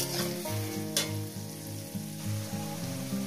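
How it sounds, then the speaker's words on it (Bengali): Sliced onions fry in a pan over a medium gas flame with salt added, a continuous close sizzle with a few sharp stirring clatters and a steady low hum beneath. "পেঁয়াজটাকে সুন্দর করে ভেজে নিলাম।"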